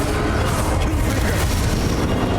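A Confringo blasting spell in Hogwarts Legacy explodes as a dense, booming roar that fills the whole short burst, heavy in the low end and loud throughout.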